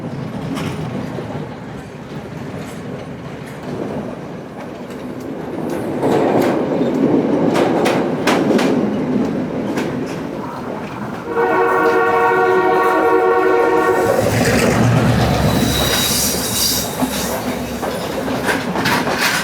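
A train rolls through a level crossing, its wheels rumbling and clacking, then a loud, sustained horn blast sounds close by.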